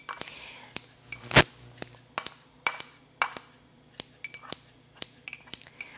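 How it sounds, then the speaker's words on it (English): Kitchen shears snipping fresh herbs inside a bowl: a series of sharp, bright metallic clicks and clinks at an uneven pace, one louder clang in the middle, close and fairly quiet. "we're just going to take our kitchen shears right inside of our bowl and get those chopped up"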